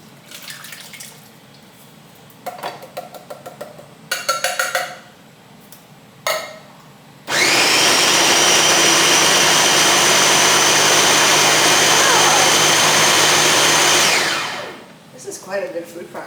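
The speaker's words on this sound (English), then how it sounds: "Quite a good food processor." A food processor whirs loudly and steadily for about seven seconds while blending diced tomatoes and onion into a puree for a Gambian peanut butter soup, with quieter kitchen clatter before and after.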